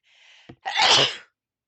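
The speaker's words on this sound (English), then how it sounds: "I also need to sneeze." A single loud sneeze from an animated game character: a brief breathy intake and a short catch, then a sharp, forceful burst that trails off into silence, heard close with no other sound.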